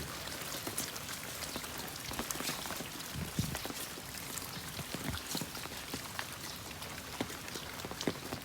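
Rain falls steadily on a pig farm, a dense patter of drops striking surfaces with occasional louder splashes, fairly faint and continuous with no voices.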